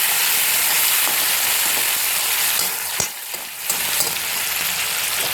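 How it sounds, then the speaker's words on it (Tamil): Tomatoes with turmeric and salt sauté loudly in a pan for a sesame seed curry, a constant dense sizzle broken around the middle by a brief dip and a few scraping stirs before the frying hiss resumes. "நல்லா ஒரு வதக்கிட்டு மூடி போட்டுடலாம்."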